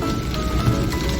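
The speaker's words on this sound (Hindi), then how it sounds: "ये देखिए कितनी भयंकर बरसात हो रही है" Heavy rain falls near the Kali river bridge as a dense, steady hiss with close-by patter and splashes blended into a continuous wash.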